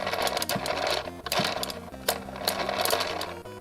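The spinning part of a Gryphon toy gun from Time Crisis wobbles as it turns, giving a steady, fast mechanical rattle with rhythmic clicks and periodic louder knocks, close by and uninterrupted by speech.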